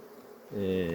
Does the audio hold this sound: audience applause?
no